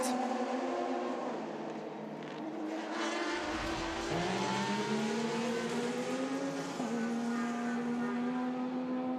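Le Mans prototype race cars at the 2019 24 Hours of Le Mans pass through a slow zone, a loud engine note dropping then rising again as a car accelerates away, with a continuous racing drone throughout.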